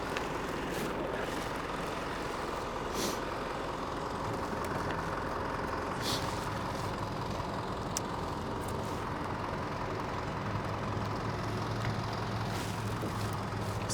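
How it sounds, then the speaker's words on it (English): A truck engine idles and rumbles steadily on a Tokyo street, a continuous low drone that stays close and fairly loud throughout, with occasional faint clicks and traffic noise. "This truck is kind of annoying."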